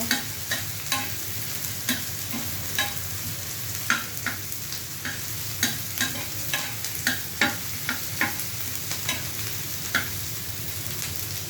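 Food fries in oil in a pan for a Noakhali-style lotir morich khola, a steady sizzle broken by regular stirring scrapes and taps of a spoon, close up and with no voices.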